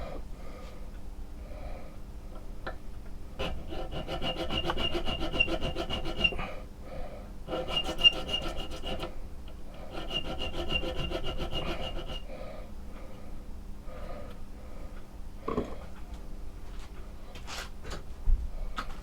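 A file rasps back and forth on a homemade metal leather maker's mark stamp, in long rhythmic strokes in a few bursts with pauses between, close and fairly loud.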